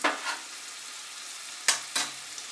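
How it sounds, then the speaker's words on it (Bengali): A teaspoon of butter melts on a hot tawa, giving a soft, close sizzle with two brief sharper bursts of spattering near the end; no talking. "তাওয়া গরম করে এর মধ্যে আমি 1 টিস্পুন বাটার দিলাম"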